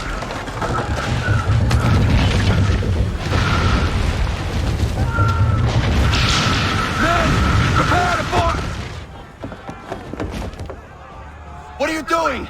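Chain shot cannon fire thunders in Assassin's Creed 3, a run of heavy booms and rumbling blasts in a naval battle, with voices talking over the din before it thins out.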